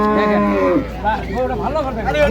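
Cattle moo loudly at a crowded village livestock market, where dairy cows and calves are sold. Long drawn-out lows are followed by several shorter bellows, with traders chattering in the background.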